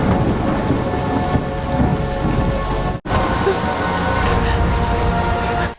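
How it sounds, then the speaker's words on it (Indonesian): Heavy rain pours steadily with rolling thunder underneath, loud and close, a dense constant wash with a short break near the middle. "Di bawah guyuran hujan"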